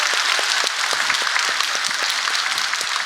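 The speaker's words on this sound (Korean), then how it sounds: "박수." A church congregation applauds after a sermon, steady dense clapping from many hands filling the room for about three seconds without a break.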